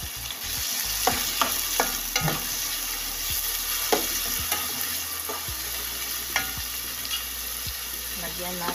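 Shrimp sizzle and fry in a hot pan with mung bean sprouts, a steady crackling hiss with occasional clinks and stirring knocks throughout, close and fairly loud.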